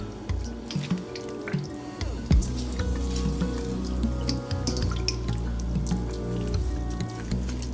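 Tap water runs steadily into a kitchen sink while raw chicken is washed with lemon for Guyanese chicken chowmein, splashing and dripping continuously with a brief clatter partway through.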